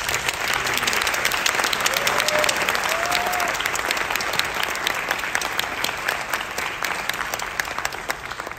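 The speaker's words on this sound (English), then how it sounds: "let's give a round of applause to the students who have been honored this evening." An audience at a Fountain Valley High School awards ceremony claps steadily and loudly for honored students, a dense, continuous round of applause that holds for several seconds with a faint voice or two underneath.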